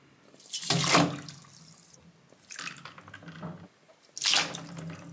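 Non-electronic graphics card parts drop into water mixed with baking soda and household vinegar, making three loud splashing, pouring bursts with quieter trickling between them. No voices are present.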